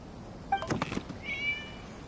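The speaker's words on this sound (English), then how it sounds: "It was just a cat." A cat meows in the Genshin Impact video game, one short cry followed by a longer rising meow, heard alone over faint in-game ambience.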